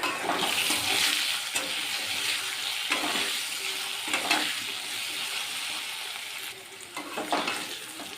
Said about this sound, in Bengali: আলুটা একটু লাল লাল করেই ভাজবো